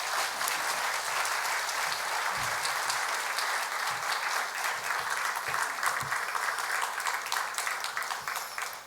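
A church congregation at a Korean Sunday worship service claps to welcome the pastor to the pulpit: dense, sustained applause from many hands fills nine seconds at an even level, with no talking over it.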